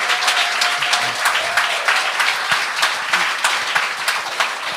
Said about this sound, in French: Fait que ça, on peut l'applaudir là-dessus.